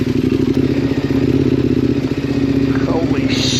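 An adventure motorcycle rides along a scenic North Carolina road, its engine droning loud and steady up close with wind rush and clattering over bumps throughout.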